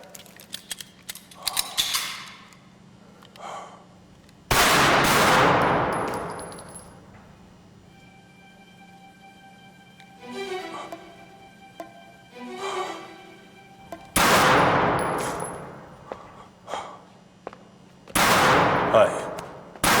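Gunfire on a firing line: three loud, sharp blasts with long decaying tails, spaced several seconds apart, with quieter clicks and a voice in the gaps between them.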